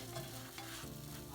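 Stuffed French toast fries in a hot pan just after being flipped, giving a steady, close, bright sizzle with light crackling throughout and no voices.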